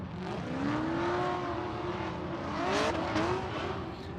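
A Nissan 240SX drift car with a drop top on Drift HQ Achilles tires, on a Formula Drift PRO2 qualifying run, revs hard with rising and falling engine pitch and a brief tire squeal, loud and continuous with no talk.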